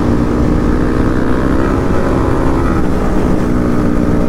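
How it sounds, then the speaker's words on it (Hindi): Loud, continuous roar of several motorcycle engines with aftermarket exhausts, including an Akrapovic, revving with throaty exhaust, steady and close, drowning out everything else. "क्योंकि बाइक्स की शोर इतनी ज्यादा है ना भाई"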